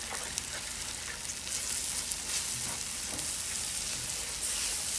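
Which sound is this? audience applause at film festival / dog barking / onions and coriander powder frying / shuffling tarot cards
onions and coriander powder frying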